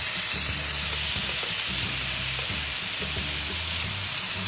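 Döner meat pieces grilling on a hot surface give off a loud, steady, dense sizzle that runs without a break and with no voices over it.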